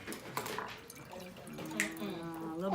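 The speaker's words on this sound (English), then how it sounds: "Can you fill the jar with water for me, please?" Water is poured into a jar in a short trickling, dripping stream while a person talks over it.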